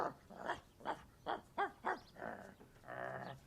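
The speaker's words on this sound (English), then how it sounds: "You're a naughty dog." A dog in a back garden makes a string of rough, growling huffs and grunts, about seven separate bursts followed by a longer throaty rumble, close but fairly quiet, with no talk.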